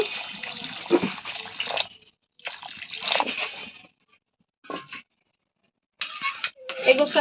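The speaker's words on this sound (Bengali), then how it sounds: "তো কষানো হয়ে গেছে এখন আমি পানিটা দিয়ে দিচ্ছি" Water is poured into a cooking pot in bursts, a splashing, sloshing stream that stops and starts several times, close and moderately loud.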